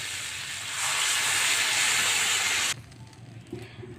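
Water poured into a hot pan of potato and pointed gourd curry sets off a loud, sustained steaming hiss and sizzle that cuts off abruptly, leaving a quieter simmer with a couple of small knocks.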